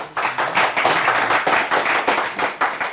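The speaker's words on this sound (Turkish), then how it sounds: "Şöyle canı gönülden bir alkış alayım." An audience at a Turkish music performance claps for a performer in loud, close, uneven bursts of hand clapping, without talk.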